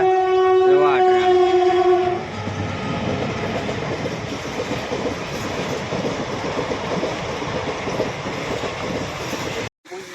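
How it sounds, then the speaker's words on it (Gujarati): At a closed level crossing, a train horn blares loudly up close for about two seconds, then the train rolls steadily past with a continuous rumble and clatter of wheels. "તમને કહું ટ્રેન આવે છે, તમને અવાજ આવતો હશે એવા ટ્રેન."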